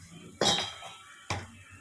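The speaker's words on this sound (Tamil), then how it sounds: "கொஞ்சோண்டு தேங்காய் வந்து நம்ம இதில் போட்டு அதையும் வந்து வறுத்து எடுத்துக்கலாம்." Shredded coconut roasting in a pan for Chettinad chicken gravy, heard as two sharp metal scrapes or clanks of a utensil against the pan, separated by a short quiet pause.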